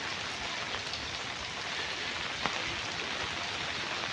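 Heavy village rain falling in a steady, dense wash of hiss, with an occasional sharper drop standing out, no voices.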